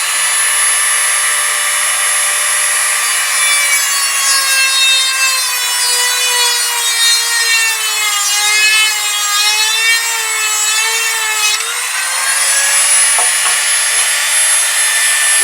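A Dremel rotary tool grinds the powder coating off a Kawasaki GPZ500S motorcycle yoke in a steady, close, high-pitched whine. Its pitch wavers and dips under load for about fifteen seconds, with no talking.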